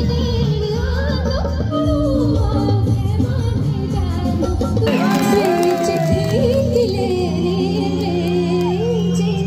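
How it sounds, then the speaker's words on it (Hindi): Dense crowd noise at a Hariyali fair in the Kedar valley near a stage, with loud continuous chatter, shouts and children's voices, plus a musical tone and a burst of cheering partway through. "यहाँ देखो भाई क्या ही तगड़ी भीड़ लगी हुई है"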